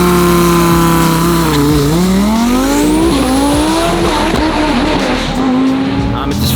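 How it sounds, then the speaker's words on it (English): A twin-turbo Lamborghini Huracan, built to about 2,000 wheel horsepower, launches hard from a standstill, its engine roaring loud and close as the revs climb through rising gear pulls with tire squeal mixed in. "It's his first time launching the car."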